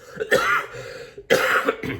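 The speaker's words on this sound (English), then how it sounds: "I'm recovering from a pretty bad cough." Two harsh, close coughs about a second apart, each with a rough throat-clearing edge, from a person recovering from a bad cough.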